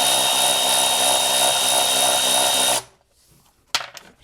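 Power tool spinning out 10mm bolts that hold the back of the airbox on a 2008 Yamaha Drive gas golf cart, a steady loud whir for nearly three seconds that stops abruptly, followed by faint clicks and a short clatter.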